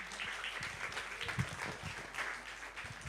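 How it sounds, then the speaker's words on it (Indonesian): A theater audience applauds the musical director at an anniversary celebration, a fairly faint, continuous patter of many hands clapping at a distance. "Silakan kita berikan tepuk tangan kepada Batara Saferi Gadi."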